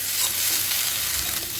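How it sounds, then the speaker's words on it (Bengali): Garlic paste being stirred into fried onions in a pan, a continuous soft sizzle with scraping stir sounds, close and steady throughout. "আর এটাকে ভালোভাবে এখন মিশিয়ে নেবো যতক্ষণ কাঁচা গন্ধটা চলে যাচ্ছে"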